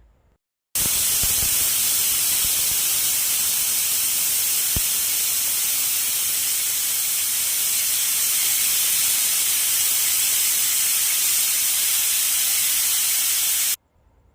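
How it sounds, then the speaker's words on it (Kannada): A pressure cooker whistle lets out a loud, continuous hiss of escaping steam that holds steady for about thirteen seconds before cutting off abruptly, close by with no talk. "ಲಿಟ್ ಕ್ಲೋಸ್ ಮಾಡಿ ಒಂದು ವಿಸಿಲ್ ಮಾಡಿಸ್ಕೊಂಡಿದ್ದೀನಿ"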